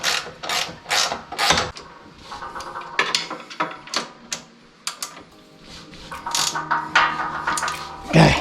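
Tightening a part on a BadBoy ZT Elite zero-turn mower during servicing, heard as a series of close, sharp metallic clicks and ratcheting bursts with short pauses between them, no talk over it.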